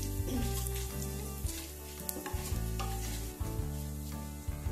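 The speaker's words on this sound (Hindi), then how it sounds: "आधा चम्मच जीरा। और मसाले को हल्का भूनने देंगे।" Cumin and spices sizzle and fry in a hot pan for a spinach and rice dish, a steady close crackle with stirring scrapes throughout, no voices.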